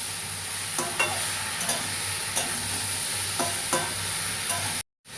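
Banana flower and prawn curry sautés with turmeric in a pan, a steady sizzle under repeated spatula stirs and scrapes at a regular pace, close and fairly loud, ending in a brief silence.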